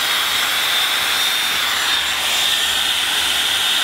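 A Dyson Supersonic hair dryer blasting at full power, a loud steady rushing hiss of air with a constant whine, close up and unbroken throughout.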